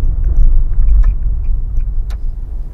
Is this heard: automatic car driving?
yes